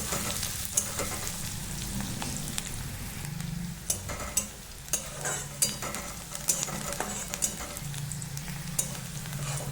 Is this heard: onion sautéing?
yes